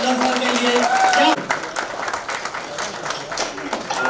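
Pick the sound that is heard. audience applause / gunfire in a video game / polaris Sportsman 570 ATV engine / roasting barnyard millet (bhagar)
audience applause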